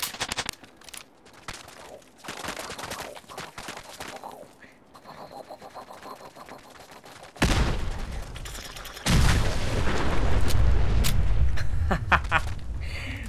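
Retro-style shotgun fire in a Fallout 4 mini game. Softer clatter comes first, then loud, heavy blasts burst in close together and hold as a dense, booming run of shots in the second half.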